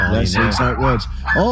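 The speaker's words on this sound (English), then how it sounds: "that's my dog barking." A dog yaps and barks in quick, high bursts close by, partly overlapping with people talking.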